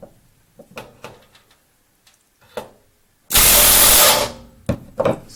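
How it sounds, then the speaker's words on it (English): Rivets being driven into an aircraft wing spar on a Bearhawk build. Scattered sharp metallic taps, then a loud hissing burst of about a second, followed by a few more quick close knocks. "Drive in the rivet, and we'll do the top one."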